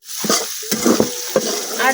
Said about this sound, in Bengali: পেঁয়াজটা আমি কিছুক্ষণ ভাজা নিলাম।